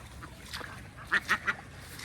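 Domestic ducks at a farm pond give three quick, fairly loud quacks in a burst partway through, over faint outdoor background with a brief voice earlier.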